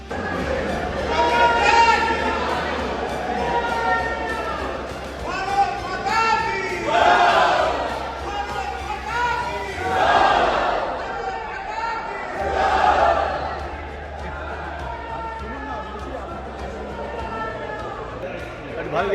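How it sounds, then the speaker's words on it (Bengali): Government employees pouring out of various offices chant Jai Shri Ram and Bharat Mata ki Jai slogans, a loud, excited crowd of voices rising and falling in repeated bursts throughout. "সরকারি কর্মীরা বিভিন্ন দপ্তর থেকে বেরিয়ে এসে খুশি হয়ে জয় শ্রীরাম ও ভারত মাতা কি জয় স্লোগান দিচ্ছেন"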